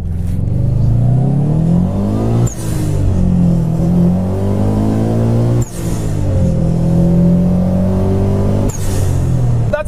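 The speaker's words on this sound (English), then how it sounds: "The car sounds awesome, of course, because it's a Subaru and it's got the boxer rumble" A Subaru 2.5RS with a swapped-in JDM STI boxer engine revs repeatedly, climbing in pitch with a throaty rumble and dropping back between pulls, loud and close, no talking.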